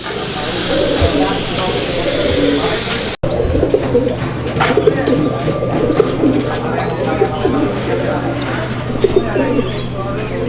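Low cooing of a male fancy pigeon repeats steadily over a busy background of other birds and hiss, with a brief cut partway through.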